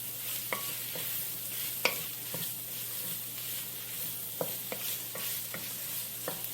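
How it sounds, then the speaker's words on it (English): Cubed ham stirred and frying in a pan: a steady soft sizzle runs throughout while scattered sharp scrapes and clicks of the utensil against the pan break through, close by, with no talking. "we're going to go in with our cubed ham and stir that around a bit"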